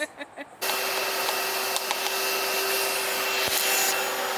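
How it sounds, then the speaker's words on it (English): A vacuum cleaner switches on after a few short thuds and then roars steadily and loudly at close range, with a few faint knocks under its constant whine. "When you have the best mom ever and she vacuums stuff"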